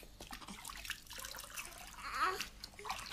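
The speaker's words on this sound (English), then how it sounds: "They're washing her tummy. Yes. Splash, splash." Faint, irregular water splashes and sloshing come from a baby being washed in a bath, soft and close, with uneven small surges of movement.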